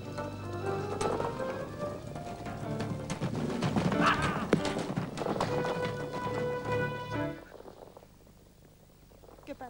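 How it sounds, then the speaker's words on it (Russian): Hooves clop along at a brisk pace amid faint ambient noise, fading out toward the end of the clip. "Лошади."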